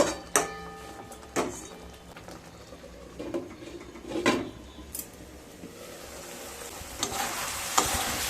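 Water from rinsing the spice bowl hits a pan of frying bean-leaf masala, giving a sizzle with scattered stirring and clinks of a utensil against the pan, loudest in a few short bursts.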